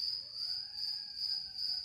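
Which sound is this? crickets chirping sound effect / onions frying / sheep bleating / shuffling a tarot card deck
crickets chirping sound effect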